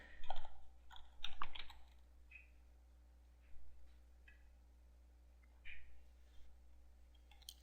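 Computer keyboard typed on in short bursts while entering an admin login and password, faint clusters of quick key clicks separated by pauses over a low steady hum.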